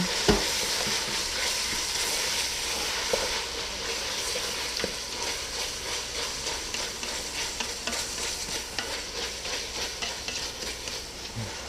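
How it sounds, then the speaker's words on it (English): A lasagna mixture with seasoning and olive oil sizzles in a pan while a spoon stirs it, giving a steady frying hiss broken by regular scraping strokes that grow rhythmic toward the end, close and without talk. "Little bit more of olive oil. And just mix it all in."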